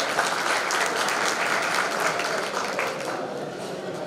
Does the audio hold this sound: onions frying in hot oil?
no